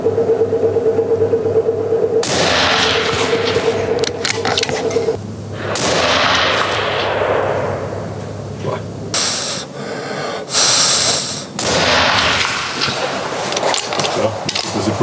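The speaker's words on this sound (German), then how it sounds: "schießen wir mit der 6er PRC auf 300" A 6mm PRC rifle fires at a 300 m target on an outdoor shooting range. A few loud, sharp reports are spaced several seconds apart, with outdoor noise and some handling sounds between them.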